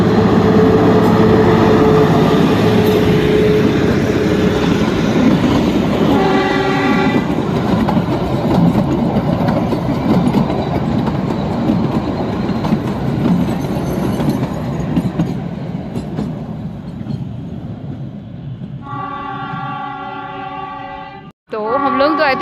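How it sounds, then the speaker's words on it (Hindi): A train rolls past on the railway near Dharampur, a loud sustained rumble with rattling wagons, then a horn blast sounds near the end as the passing continues. "भाई साहब ट्रेन आ रही है, फिर से ट्रेन आ रही है।"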